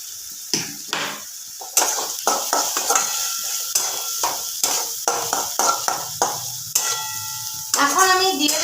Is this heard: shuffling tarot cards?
no